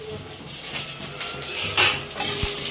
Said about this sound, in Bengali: আমি ফার্স্টে আদা রসুন থেঁতোটাই দেবো, কারণ এটার কাঁচা গন্ধটা যেন চলে যায়